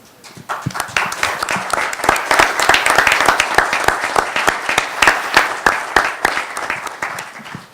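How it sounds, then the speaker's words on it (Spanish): Attendees at a national tourism forum applaud, clapping starting from quiet, swelling to a full, lively round in the middle and easing slightly near the end, with no speech over it. "Soy el primero en aplaudirle a Fernando"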